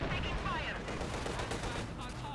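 Game gunfire from a Company of Heroes 2 1v1 match, with a T-34 and a Panther tank in the fight: dense, continuous crackle of small-arms and machine-gun fire running steadily throughout at even loudness.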